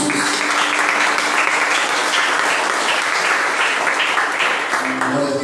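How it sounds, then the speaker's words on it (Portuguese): A church congregation claps for Jesus during a sermon: dense, steady applause fills the room at full strength throughout, without pause. "palmas para o Senhor Jesus"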